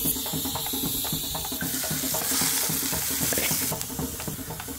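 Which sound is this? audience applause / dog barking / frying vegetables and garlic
frying vegetables and garlic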